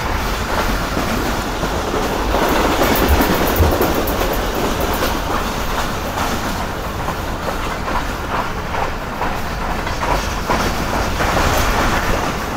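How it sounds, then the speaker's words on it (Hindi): The Karakoram Express runs at speed between Lahore and Karachi, around 106 km/h, in old coaches. A loud, continuous roar and rattle fills the clip, with rhythmic clickety-clack of the wheels over the rail joints. "तकरीबन 106 की स्पीड में ट्रेन ने स्किप किया है सफदराबाद रेलवे स्टेशन को।"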